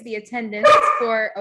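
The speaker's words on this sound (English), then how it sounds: "that's my dog." A pet dog barks and yips close by at home during an online talk, a short burst of sharp barks mixed in with a person's speech.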